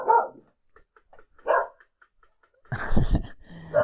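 A dog barks a few times nearby, short loud yelps with quiet gaps between them and a heavier burst of barking toward the end.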